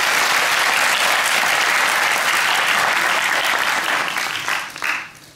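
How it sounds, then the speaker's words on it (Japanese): Loud, dense audience applause at a symposium on Japan's secrecy protection law, sustained evenly before tapering off at the close. "皆さん拍手でお願いください。"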